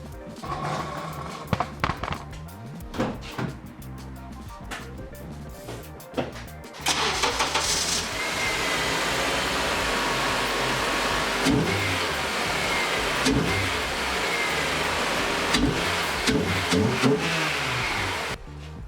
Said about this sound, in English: She's got the induction noise now, which will be interesting when the VTEC kicks in.